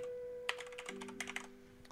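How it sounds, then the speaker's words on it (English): Quick clicks from a computer keyboard come in a brisk burst of keystrokes, close and crisp, over a faint steady electronic hum that shifts pitch partway through. No voices are heard. "so I'm just going to type that in."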